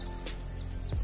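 Tiny newly hatched chicks of a jungle crossbreed chicken, not yet fed, give a couple of high, thin peeps and a soft cluck in a brief, close snippet.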